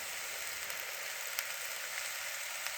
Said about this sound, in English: saute these vegetables until they're nice and tender before I add the next set of ingredients